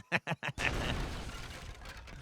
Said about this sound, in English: Heavy cannon raids.